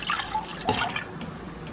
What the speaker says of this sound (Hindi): ये दूध डालेंगे